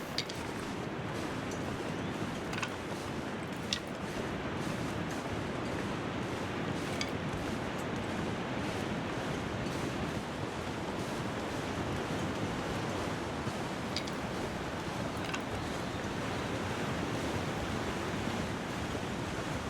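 Loud waterfall in the survival video game The Long Dark, a steady, dense roar of rushing water close by, continuous and unbroken for the whole stretch with no voices.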